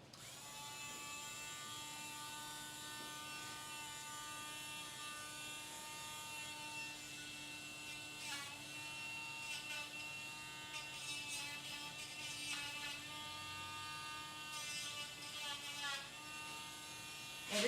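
A Dremel rotary tool filing a young poodle's nails, a faint steady buzzing whine running throughout with small scratchy bursts as it touches the nails.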